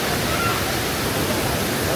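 Hogenakkal waterfall on a low-water day, its rushing water a steady, even broadband roar that fills the whole stretch with no pause.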